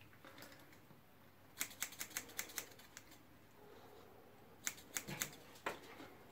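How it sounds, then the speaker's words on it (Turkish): Thinning scissors snip through a Yorkshire terrier's coat during grooming, giving two quick bursts of crisp, closely spaced clicks, fairly faint over quiet background. "İşte bu parçaları bu ara makasıyla keserek temizliyoruz."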